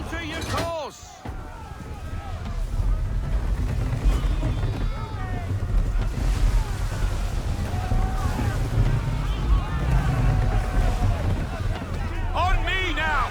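Sailing ship in Assassin's Creed III moving into the wind, with a steady roar of wind and sea surging under voices, broad and continuous at close range.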